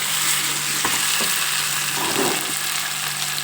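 Potatoes frying in an oiled pan for a potato curry, a loud continuous sizzle close up with a few soft stirring knocks and scrapes, no one speaking.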